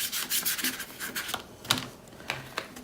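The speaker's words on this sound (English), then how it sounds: "So just scraping." Paint being scraped across a mixed media collage painting, a dry rasping scrape repeated in short strokes, fairly close and moderately quiet, with no voices.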